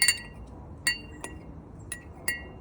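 A drinking glass is handled, giving several sharp, bright clinks at irregular intervals that stand alone against a quiet room with no talk.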